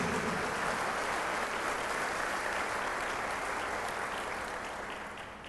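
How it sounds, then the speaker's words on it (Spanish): Audience applause for priests at a Catholic church event, a steady sustained clapping from a crowd that tapers off slightly toward the end, with no talking over it. "Un aplauso a los sacerdotes."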